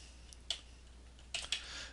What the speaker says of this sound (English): I'm going to enter this from the keyboard